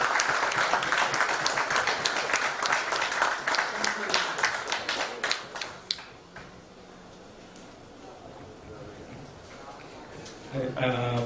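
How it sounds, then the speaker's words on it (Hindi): Audience applause in a hotel hall at a tech event, dense clapping that fades out around the middle, leaving quieter room noise before a voice speaks near the end. "आप रुको नहीं, तालियां आती रहनी चाहिए।"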